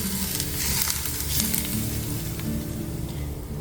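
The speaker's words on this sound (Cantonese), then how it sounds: "我哋浸翻少少滾油落去" Hot oil poured over a silky steamed egg with dried shrimp and vermicelli crackles into a loud, continuous sizzle close by, holding steady throughout with no voices.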